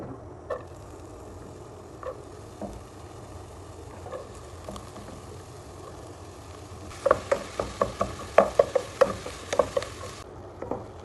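Onions sizzling softly in a pan for an Indian snack, a quiet steady fry that turns into a run of sharp scraping and clinking strokes from a spoon stirring against the pan toward the end.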